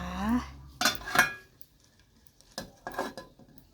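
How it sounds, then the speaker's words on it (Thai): Metal lid set onto a steamer pot of fish and vegetables, a few sharp clanks and rattles close by, then quiet with a couple of softer clinks. "ปิดฝา"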